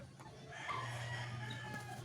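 Soft chicken clucking, faint and somewhat distant, over a low steady hum.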